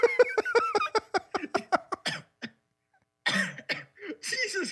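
A smoker breaks into a rapid series of harsh, close coughs mixed with laughter, tapering into a pause before a few more raspy coughs and wheezing laughs.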